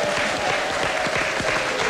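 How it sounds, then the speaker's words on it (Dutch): A television studio audience at a 1997 Dutch game show applauds with steady, dense clapping for about two seconds. "Applaus voor Helmoet Hollandia."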